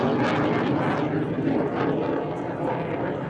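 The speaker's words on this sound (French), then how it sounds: "Les moteurs montent à pleine puissance." Twin jet engines of a Dassault Rafale running up to full power with afterburner at the 2017 La Ferté-Alais air show, a loud continuous broadband roar that stays close and sustained, with a voice faintly present beneath.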